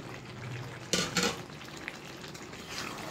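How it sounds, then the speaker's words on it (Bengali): Potatoes go into a pot of chicken biryani and get stirred: a short burst of scraping and sizzling near the start, then a quieter sizzle and a soft knock against a low, steady background. "আলুটাকে দিয়ে একটু নাড়াচাড়া করে 5 মিনিটের জন্য একটু দম দিয়ে রাখবো"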